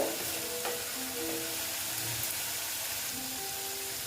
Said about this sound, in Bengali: দেখো মশলাটা প্রায় অনেকটাই ভাজা হয়ে গেছে সুন্দর দেখো তেল ছেড়ে দিয়েছে